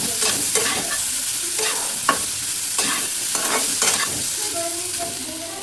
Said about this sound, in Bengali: এখন একটু বড়া ভেজে আমি এখন পনির ভাজা করছি।